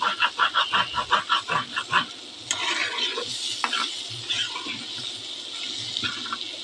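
Chickpeas fried with garam masala in a pan, stirred with a run of quick rhythmic scrapes at first, then a steady crackling sizzle with scattered clinks of the spoon, close and moderately loud.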